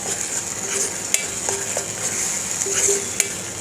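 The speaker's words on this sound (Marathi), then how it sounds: "वाटण छान तेलावर परतायचं आहे आपल्याला" Ground masala paste being stirred and sautéed in oil for pitla, a continuous sizzle with occasional sharp clinks of a spoon against the pan, close and fairly loud, no voices.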